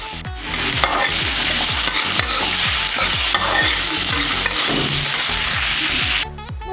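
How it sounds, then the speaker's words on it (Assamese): Seeds frying in a pan for a jeera rice and egg curry dish, a dense, steady sizzle with rapid repeated scraping and stirring strokes, loud and close, with no voices. "এতিয়া গুটিখিনি ধুনিয়া কৰি ভাজি আছো"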